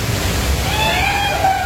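The Thoseghar waterfall gives off a steady, broad rushing roar, with no break across the short stretch.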